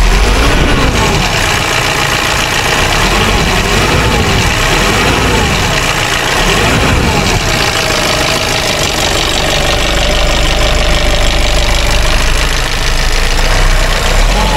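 A Nissan Caravan E25 van's diesel engine idles steadily and loudly, with a continuous low, knocking rumble that stays even for the whole stretch.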